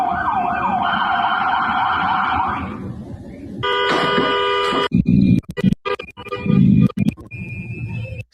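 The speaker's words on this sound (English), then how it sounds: "There's sirens." Emergency vehicle sirens wail loudly and steadily, then give way to a second, harsher siren tone, with thumps and handling noise breaking up the last few seconds.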